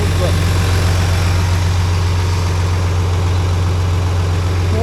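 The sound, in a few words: ex military John Deere 850J dozer engine running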